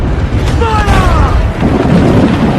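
Ship cannons in Assassin's Creed Black Flag fire during a naval chase of a slaver ship, a heavy continuous rumble of booms under roaring wind and sea. A shouted voice cuts through briefly.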